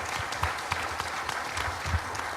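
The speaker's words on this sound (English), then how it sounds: "Round of applause, please." Steady applause from a crowd, dense clapping throughout with a few louder claps standing out, fairly close and continuous.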